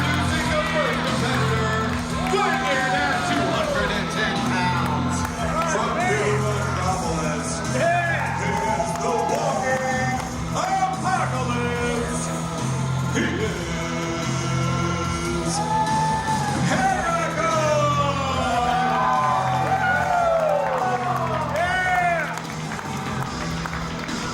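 A wrestling event crowd cheering, whooping and yelling continuously in a large hall, loud and dense throughout, with announcer commentary talking over it.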